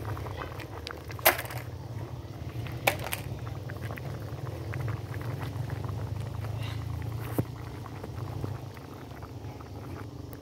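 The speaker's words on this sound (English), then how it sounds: "the food is still boiling." Steady low bubbling of food boiling in a pot, continuous and fairly quiet, with a few sharp clicks and knocks over it.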